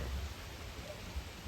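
Rain falls steadily in a misty hill area, a soft, even hiss of drops with a few low rumbles, fairly faint and with no voices.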